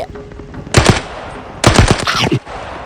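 Two bursts of rapid automatic gunfire in the Arena Breakout shooter game, the first short and the second longer, loud and close against a low background hum.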